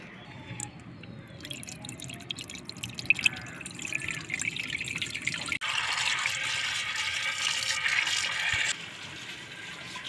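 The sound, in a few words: washing cauliflower under running water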